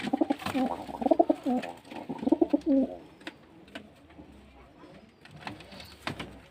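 Paired game pigeons coo in soft, throaty bursts close by, followed by quieter rustling and scattered small sounds.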